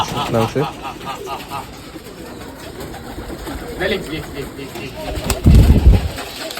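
Pigeons coo softly and repeatedly in the background, with a louder muffled rumble or flutter near the end.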